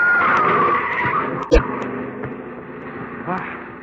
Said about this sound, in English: Look out, Governor. Mind that car!